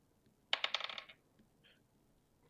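Dice roll for damage during a tabletop role-playing session, clattering briefly and sharply on a hard surface in a quick burst of rattling hits that settles within about half a second, followed by a faint later tick, with no talking.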